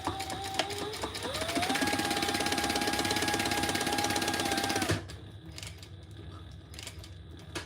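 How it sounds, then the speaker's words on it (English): A sewing machine stitches a pen pocket onto a large tote bag in a fast, even mechanical whir for about five seconds, then stops, leaving quiet room sound with a few small clicks. "let's sew this on"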